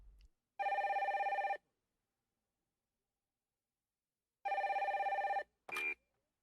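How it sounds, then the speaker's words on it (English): An old-style telephone bell rings twice, each ring lasting about a second with silence between them, followed by a short high electronic tone. "Then the phone rings."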